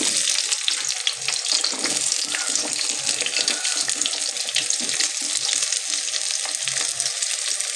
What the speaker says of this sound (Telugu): ఆయిల్ బాగా కాగింది. ఫస్ట్ అయితే ఉల్లిపాయలు వేసుకుంటున్నాను.